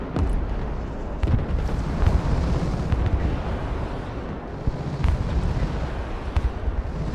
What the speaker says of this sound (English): Every cruise missile of theirs, every cruise missile they had was shot down.